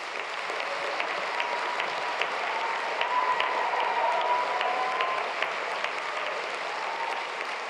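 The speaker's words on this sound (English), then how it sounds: "Round of applause for Corey, please." An audience at a graduation ceremony gives a student union president a round of applause: steady, even clapping from a large crowd in a hall, continuous and moderately loud from start to finish.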